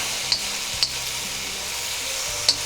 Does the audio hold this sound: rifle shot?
no